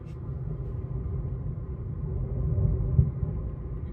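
Low rolling thunder from passing lightning storms, a steady deep rumble that swells slightly toward the end with a faint thump, distant and heard alone without talk.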